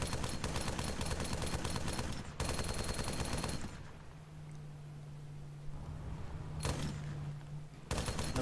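Gunfire in an online shooter video game comes in rapid automatic bursts, loud clattering volleys separated by short pauses with engine hum beneath, and no voices over it.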